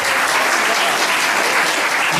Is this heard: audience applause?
yes